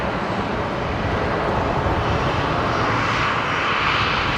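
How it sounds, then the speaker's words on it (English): Qantas Boeing 737 jet taking off from runway 19 left at Brisbane airport, bound for Melbourne, a loud, steady roar of engines that holds and slowly shifts in tone over the few seconds, with no voices. "Qantas 631 here, the 737 off to Melbourne"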